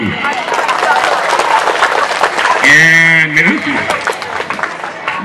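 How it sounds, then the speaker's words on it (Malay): Audience applause and cheering at a stage show fills the room, broad and lively, with crowd chatter and shouts mixed in and a brief whistle-like tone midway. "Tepuk tangan sekali buat apa lahu."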